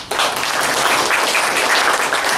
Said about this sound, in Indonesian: sebelumnya kita aplaus dulu ya untuk kita